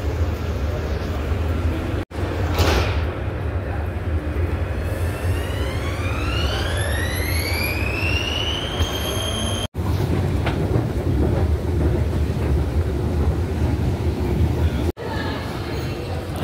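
Underground metro train in Prague running steadily, with rising and falling whine tones as it accelerates and brakes, a loud constant rumble throughout, broken by brief sharp cuts; no separate door slide stands out clearly.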